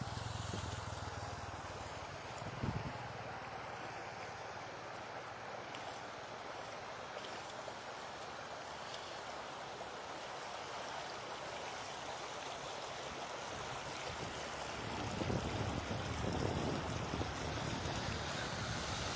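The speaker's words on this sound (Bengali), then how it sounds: "এই সড়ক দিয়ে পানি ঢুকছে আপনারা দেখতে পাচ্ছেন যে সুরমা নদীর পানি হাওয়ারে প্রবেশ করছে" Surma river floodwater pouring across a main road near Tahirpur, Sunamganj, a steady broadband rush of flowing water with wind buffeting, swelling louder toward the end.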